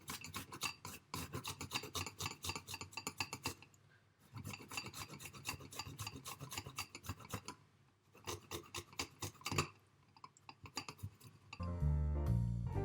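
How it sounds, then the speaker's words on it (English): Garlic cloves rasped against a grater into a bowl, the scraping coming in steady bursts with short pauses, loud and close with no talking. "I'm gonna just grate the garlic in."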